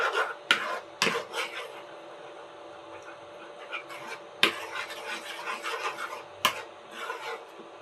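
Food is stirred in a pan while making kubos Arabian bread in Qatar: faint scraping and rubbing with several sharp clinks of utensil against metal, spread irregularly.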